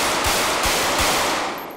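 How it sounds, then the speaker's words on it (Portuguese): Rapid gunfire from a Beretta pistol in GTA 5 roleplay, a dense rattling burst of shots that roars steadily for nearly two seconds before tapering off, loud and with no talk over it. "Olha o barulho da como é que fica a Beretta, mano"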